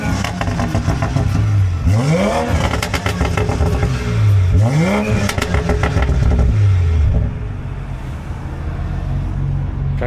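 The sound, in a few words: BMW X7 B58 engine revving after downpipe install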